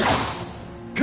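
A Confringo fire spell cast in Hogwarts Legacy: one brief whooshing burst that sweeps through loudly, fades, then ends in a short sharp impact at the close.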